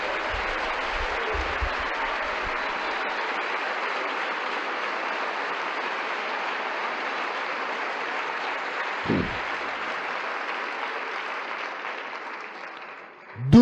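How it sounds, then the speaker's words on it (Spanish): Church congregation applauding the Lord during a worship service, a dense, steady wash of clapping sustained for over ten seconds before fading out at the end. "Un aplauso al Señor."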